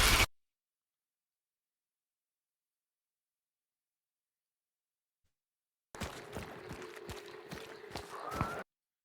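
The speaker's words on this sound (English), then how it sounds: "So you can hear their mate footsteps." Player footsteps in the video game Hunt: Showdown, a run of quick, close steps thumping at an even rhythm for about three seconds after a long stretch of silence.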